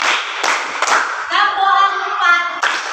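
A group claps hands together, a few sharp separate claps followed by a brief spoken or sung stretch and another clap, in a classroom-style activity.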